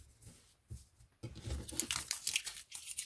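Paper is snipped and crinkled with scissors while making a picture card at a craft table, a run of close, irregular crisp cuts and rustles after a quieter stretch.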